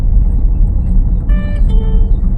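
A car slows under braking during a driving lesson, its low engine and road rumble steady and close inside the cabin, with a faint brief squeak near the end.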